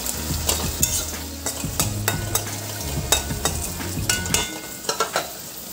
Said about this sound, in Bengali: এখন রান্না করছি পুয়ের ডোকা দিয়ে নিরামিষ তরকারি